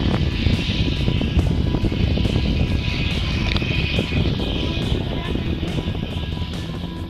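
A T-6 Texan propeller aircraft taxis with its engine running as a steady, loud, droning roar that continues throughout, heard from inside or close by.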